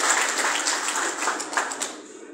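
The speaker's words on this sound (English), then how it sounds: "This is another applause for him." Crowd applause at an outdoor Yoruba Nation rally in Ilorin, a dense wash of clapping that holds steady for a couple of seconds before thinning out toward the end.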